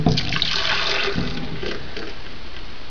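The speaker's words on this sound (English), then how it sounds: "I'm just going to go ahead and pour that back into the blender." About two cups of blended raw red pepper soup mixture pour in a steady, splashing stream back into a blender, continuous and fairly close, with no talking.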